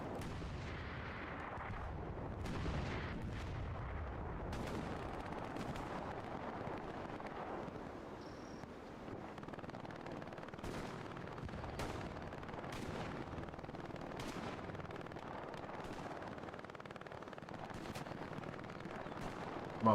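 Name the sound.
machine gun fire in a video game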